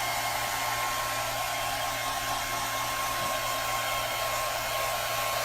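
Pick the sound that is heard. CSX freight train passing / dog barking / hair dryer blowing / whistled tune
hair dryer blowing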